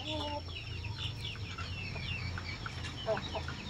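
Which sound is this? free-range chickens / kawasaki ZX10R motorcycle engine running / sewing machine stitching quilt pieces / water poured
free-range chickens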